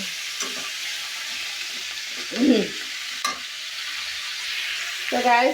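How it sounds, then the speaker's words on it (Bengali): Bitter gourd (karela) with potato sizzling in a pan in a village kitchen, a soft continuous fry with a few stirring clinks, and someone briefly speaking over it near the end. "আমি একটু কল্লা ভাজি দেখা দিলাম, এটা একটু ভাজা ভাজা করবো।"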